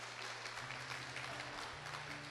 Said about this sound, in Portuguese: então vamos aplaudir